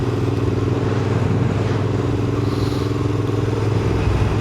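A motorcycle engine drones steadily while riding, a constant close rumble mixed with wind rush that holds at an even level throughout, with no talk.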